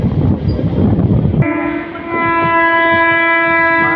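A Kakinada Port to Vijayawada MEMU express train runs at night, a steady rumble of wheels and carriages with a sustained tonal whine or horn-like drone rising in the second half, close and continuous.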